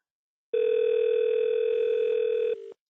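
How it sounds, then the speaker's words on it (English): An incoming call sets off a single steady electronic telephone tone that holds for about two seconds, loud and clear against silence, then drops to a quieter short tail before stopping. "why is my phone ringing?"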